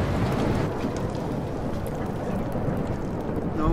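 Steady heavy rain pours with a low rumble of thunder during a storm in the Life is Strange video game, loud and continuous with no voices.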